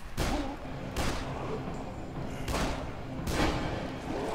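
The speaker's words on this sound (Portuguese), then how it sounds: "Essa arma aqui, eu posso dar um tiro nele." Gunfire in the video game Dead Island: four sharp, loud shots come at uneven intervals, each with a short booming tail, and no one talks over them.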